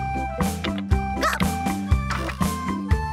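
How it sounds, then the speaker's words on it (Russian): A cartoon dog from a children's animated series about wooden toys gives short, bright yaps, about six evenly spaced barks over a light musical backing. "Собачка Гав-Гав."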